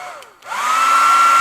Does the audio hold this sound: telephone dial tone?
no